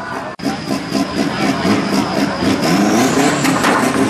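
Off-road race trucks roaring around a dirt track at an open off-road event, steady loud engine drone with revving swells and a brief dropout near the start, continuous throughout.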